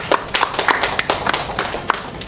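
Audience at a Christmas family gathering in a hotel in Sibu claps in a loose, uneven burst of separate hand claps over about two seconds, moderately loud and fairly close.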